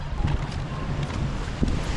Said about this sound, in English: It's windy today here in Pensacola.